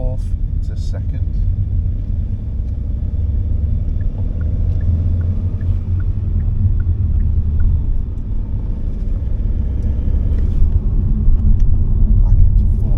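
A car driving along a road while the driver brakes gently and shifts down from fourth to second gear, giving a steady low engine and road rumble throughout with a voice talking over it.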